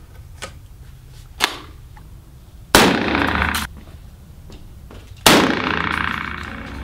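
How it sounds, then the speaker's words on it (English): A 12 gauge shotgun fires at AR-15 magazines outdoors. Two loud, close blasts land a few seconds apart, each with a long rumbling decay, and light clicks and handling noises come before them. "Now we're actually gonna do a scattergun, shotgun."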